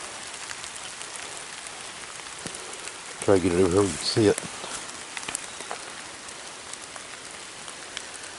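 Steady rain falling outdoors in the field during a metal detecting hunt for colonial coins, a constant close patter that continues under a brief stretch of someone talking.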